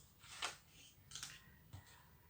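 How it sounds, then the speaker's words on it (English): Scissors snip through pieces of card for cardmaking: three quiet, crisp cuts spaced roughly evenly over a couple of seconds, close by with a hushed background. "So we just need a few pieces of this, cut very easily with a pair of scissors."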